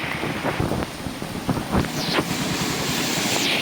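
Floodwater running along a channel after heavy rain in Jaffna, a broad, steady rushing wash with gusts of wind buffeting the microphone and a few louder surges, fairly close and continuous with no speech.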